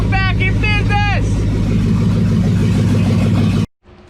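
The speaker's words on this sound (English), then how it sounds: "So I just revved it up." A loud engine runs steadily throughout, with brief chirpy voice-like tones near the start, then cuts off abruptly near the end.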